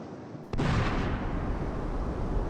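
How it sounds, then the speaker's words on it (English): A single loud gunshot sound effect from a VHS horror game bursts in after a quiet moment, followed by a sustained rumbling roar that keeps going to the end. "Gunshot noise."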